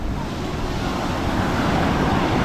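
Strong ocean waves surge continuously onto a beach at Zambales, a loud, steady wash of surf mixed with wind noise and no pause throughout.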